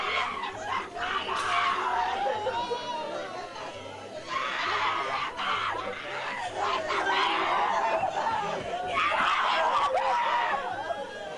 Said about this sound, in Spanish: Con estos desgarradores gritos de dolor, las hijas de Rigoberto Samayoa despedían a su padre este lunes en el Cementerio General